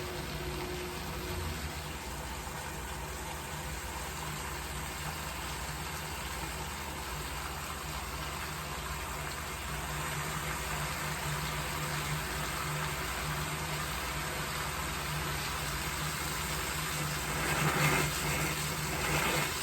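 A python aquarium hose pulls water in a fish room, giving a steady low gurgling and hissing suction with air bubbles that grows a little louder toward the end, with no talking.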